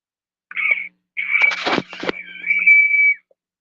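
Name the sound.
cold water bottle lid whistling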